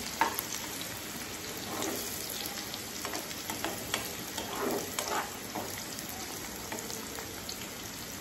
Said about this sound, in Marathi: कांदा चांगला लालसर होईपर्यंत परतायचा आहे